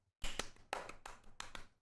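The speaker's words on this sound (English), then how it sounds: "Give yourself a round of applause." At the end of a podcast episode, a few people clap briefly in a short, faint round of applause with several sharp, uneven claps.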